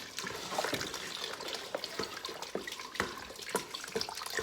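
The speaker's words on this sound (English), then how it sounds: "I'm gonna now start adding my stock right this minute." Stock pours into a pot of homemade beef stew, a steady liquid splashing and trickling with small bubbling accents, close and moderately quiet, with no talking.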